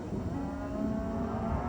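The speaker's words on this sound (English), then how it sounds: "Guess they were moving cattle." Cattle lowing on a desert trail near Moab, a few sustained moos blending with a steady low rumble of vehicle noise throughout, moderately loud with no talking.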